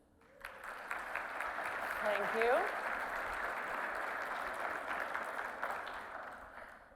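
Audience applause fills a plenary keynote hall on workplace mental health, a steady wash of clapping that swells and holds for several seconds while the speaker briefly says thanks.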